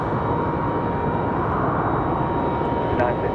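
A JetBlue Airbus A220-300 arriving from Boston gives off a steady, broad engine roar at a windy Raleigh-Durham airport, continuous and fairly loud throughout, with a voice speaking over it.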